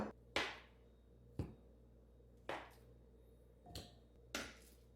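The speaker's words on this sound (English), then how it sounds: "Next, we're going to put the ribs into a large bowl." Pork ribs being put into a large bowl make five sharp, separate clacks and thuds spaced about a second apart, quiet and close, with no talking.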